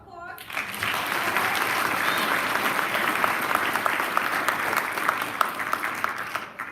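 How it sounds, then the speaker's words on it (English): Applause at a Stewartville DARE graduation ceremony, a room full of people clapping in a dense, steady wash that starts abruptly and carries on evenly, with a few sharper claps near the end. "Round of applause"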